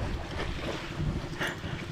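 Steady wind buffeting the microphone over open sea, with the wash of waves and a passing ship's low rumble underneath; no voices.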